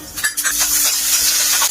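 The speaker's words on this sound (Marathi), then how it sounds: "कढईत तेल टाकूया. यामध्ये जिरं, कढीपत्ता," Cumin seeds and curry leaves hitting hot oil in a kadhai, a sharp burst of sizzling and spattering that holds steady and close, with a few utensil scrapes at the start and no talk.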